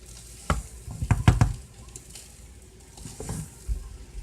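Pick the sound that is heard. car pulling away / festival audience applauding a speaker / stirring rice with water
stirring rice with water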